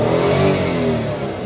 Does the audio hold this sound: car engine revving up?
yes